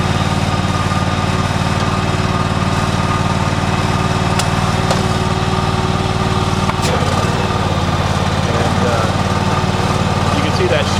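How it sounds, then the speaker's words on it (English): A John Deere X530 lawn tractor with a 47-inch snow blower runs steadily at close range, giving a loud continuous engine drone with a whirring blower that holds throughout. "See that shadow down there that the snowblower is in fact running."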